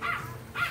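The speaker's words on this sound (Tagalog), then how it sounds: "Yan na yung aso." A dog gives two short barks about half a second apart, at moderate distance, over background noise.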